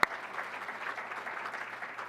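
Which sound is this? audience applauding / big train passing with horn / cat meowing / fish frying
audience applauding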